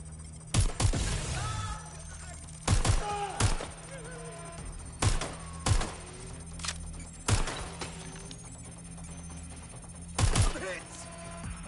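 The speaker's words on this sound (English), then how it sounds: "Do you hear gunfire?" Sharp gunshot bursts in the video game Watch Dogs: Legion crack out in short clusters every couple of seconds over a steady electronic hum, with bits of talk between them.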